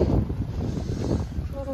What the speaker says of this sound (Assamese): এইটো এনে বতাহ দিছে